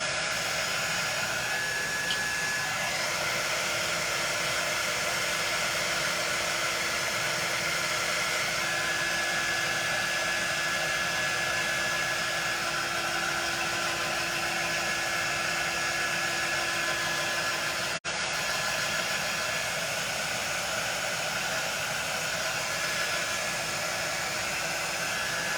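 A hair dryer blows continuously at close range to dry freshly applied paint, a loud, unbroken, airy roar that holds steady throughout apart from one brief dropout.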